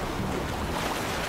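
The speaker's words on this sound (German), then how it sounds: "Der Wind heult." Wind howls steadily through The Witcher 3: Wild Hunt, a broad, constant rushing roar with no breaks, loud and close throughout.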